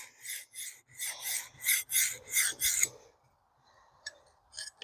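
A MagnaCut steel knife blade is sharpened to raise a burr, with about eight quick rasping strokes in an even rhythm, close and fairly quiet, followed by a few faint scrapes.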